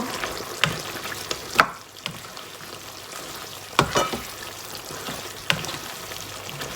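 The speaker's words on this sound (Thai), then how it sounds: "คนทุกอย่างเข้ากัน" Chicken red curry with long beans and fingerroot stir-frying in a pan, a steady close sizzle broken by a few sharp scraping stirs of the spatula, with no talk over it.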